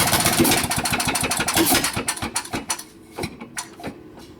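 A Wade one-man drag saw engine sputters as it runs out of gas, firing in uneven bursts that grow sparser, weaker and more irregular toward the end.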